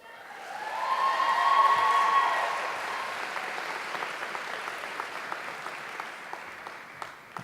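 Conference audience applauding as a speaker comes up to the podium at a NECO final event, a dense full round swelling early then thinning to scattered individual claps.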